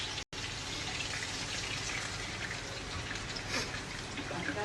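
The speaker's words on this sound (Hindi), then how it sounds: "ये मैं इसमें पानी डाल रही हूँ थोड़ा सा।" Water poured steadily into a cooking pot while minced beef with bitter gourd is being prepared, a continuous close splashing trickle that runs nearly the whole time after a brief gap at the start.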